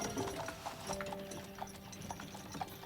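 Horse hooves clip-clopping in an episode of the Castlevania animated series, a steady quick rhythm of light hoof strikes, fairly close but low in level.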